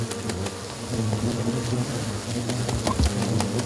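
Giant hornets swarm and buzz at an underground nest, a dense, loud, continuous droning hum from many insects close by, with no voices.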